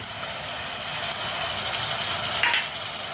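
Ginger-garlic paste sautés in a pressure cooker with a steady, dense hiss and sizzle, fairly close and unbroken, with a brief stir scrape near the end.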